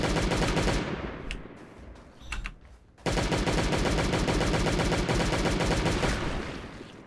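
Rapid automatic gunfire in the zombie survival game Last Day On Earth: Survival, loud and sustained in dense bursts, broken by a short pause and a few isolated shots before the firing resumes steadily.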